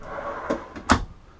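A full-extension kitchen drawer in a 2017 Winnebago Aspect 27K motorhome slides and thumps shut in two or three quick, close wooden knocks, fairly quiet, with no talking.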